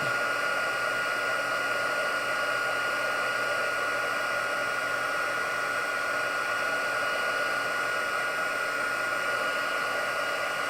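A heat tool blows steadily to melt embossing powder on a craft project, producing a constant close hiss and whir like a hair dryer that holds even throughout without speech.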